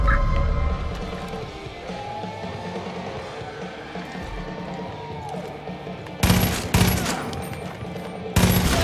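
In the video game Far Cry 5, machine gun and mortar fire sound out: a low rumbling mix of distant firing, then two sharp, loud bursts of rapid gunfire close by near the end.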